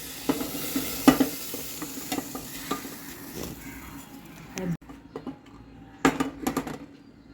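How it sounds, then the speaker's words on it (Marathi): Water splashed into a preheated pressure cooker crackles and sizzles in bursts, with a metallic clatter of the pot and utensils close by, fading and then flaring again near the end. "पाणी टाकून बघते की कुकर गरम झाला आहे का नाही"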